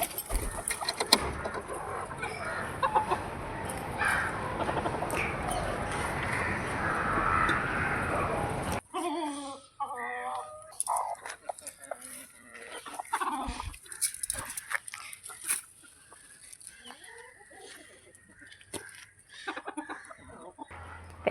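A flock of chickens clucks and calls in a crowded backyard coop, a dense busy chorus at first that thins to scattered nearby clucks and squawks.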